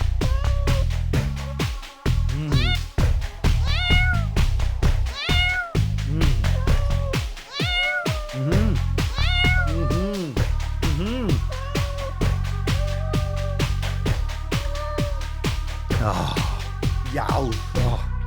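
A cat meows again and again, close and loud, in a string of drawn-out, pitch-bending cries over a steady musical backing.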